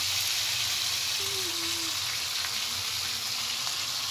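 Tandoori chicken pieces frying in hot oil on a stovetop, a steady close hiss and sizzle running throughout with a faint low hum beneath.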